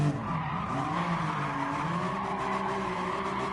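A car drifts in Gran Turismo 7 with continuous loud tire squeal and skidding over a wavering engine note, close and sustained without a break.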